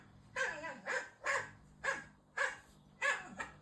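Six short, bright playful dog barks played from a dog talk app, evenly spaced about half a second apart, clear and fairly close, with a faint steady hum underneath and no voices.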